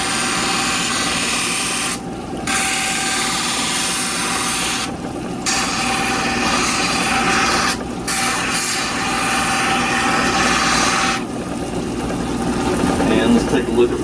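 A rotary drill grinds against stone in long continuous stretches, stopping briefly a few times, close and fairly loud.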